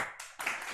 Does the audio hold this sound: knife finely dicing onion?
no